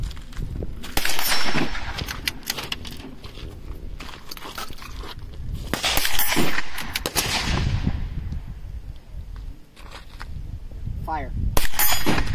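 Gunshots at an outdoor shooting session, loud cracks that come in scattered groups across the stretch, with people talking between and over the shots.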